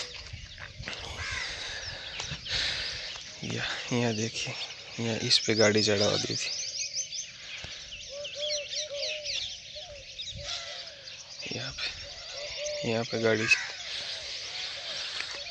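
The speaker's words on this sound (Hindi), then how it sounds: "अभी तो गांव में मॉर्निंग का टाइम हुआ, वो पक्षियों का कलर सुनाई दे रहा है" Birds chirp and call around a village in the morning, with scattered tweets and trills at mid distance, heard under and between someone talking nearby.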